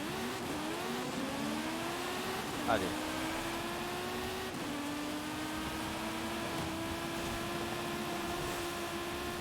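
Audi Quattro S1 in Forza Horizon 5: the engine climbs through gears in rising revs, then holds a steady loud drone, with a voice briefly heard over it.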